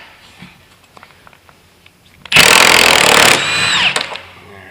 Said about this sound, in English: Using a 3/4 inch drive socket on a 1/2 inch impact.